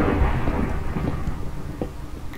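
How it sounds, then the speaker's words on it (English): Loud, close thunder rumbling through a Minecraft storm, a continuous deep roll with rain hiss, carrying on steadily without any speech. "If you do think about it, thunder is loud in general"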